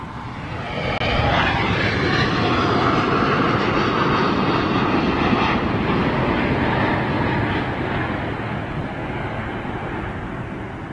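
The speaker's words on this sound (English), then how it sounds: "Wow, there's another Virgin Dreamliner coming out." A Virgin Dreamliner airliner departing Heathrow Airport, its jet engines producing a loud, steady broadband roar that swells in and holds throughout, with wind buffeting on the microphone.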